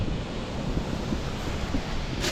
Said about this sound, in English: yeah, big waves